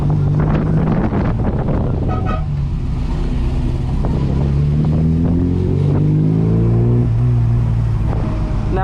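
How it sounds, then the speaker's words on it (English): A 1973 Mini Cooper's 4-cylinder engine droning from inside the car while driving on Maui's west side, loud and steady, with rising and falling revs through gear changes and wind noise. "while I am not typically partial to the sound of 4-cylinder engines, this particular one sounds absolutely fantastic"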